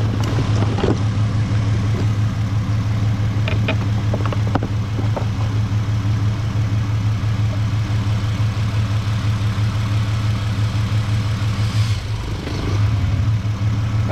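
A 2008 Ford Mustang 4.0 V6 idles with a steady low rumble, close and loud, with a few clicks and knocks on top and a brief dip near the end.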